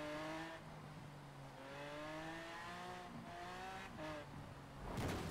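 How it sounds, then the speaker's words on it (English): An AMC Gremlin X in the Forza Horizon racing game revs with rising and falling engine harmonics. It climbs through gear changes in steady sweeps and ends in a brief burst of noise, with no voices. "we have an amazing car sound, as you can all hear it."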